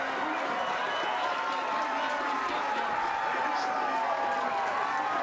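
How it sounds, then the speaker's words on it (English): Tour de France 2004 stage finish crowd shouting and cheering for a yellow-jersey rider, a dense sustained roar of many voices at moderate distance, steady for several seconds. "You can hear the crowd shouting for him now"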